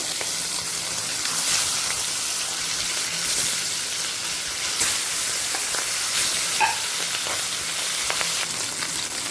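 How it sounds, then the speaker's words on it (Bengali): Bhetki fish bones fry in hot oil in a second batch, producing a loud, steady hissing sizzle with a few brief pops and light stirring clicks, no voices present. "সেকেন্ড ব্যাচের ফাটাগুলো ভেজে নেব"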